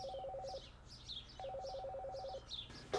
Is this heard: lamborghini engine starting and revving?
no